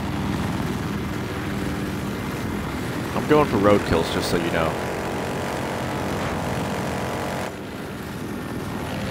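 Helicopter engine in the video game Battlefield Hardline, a steady droning rotor and engine hum that runs the whole way, with someone talking briefly over it partway through.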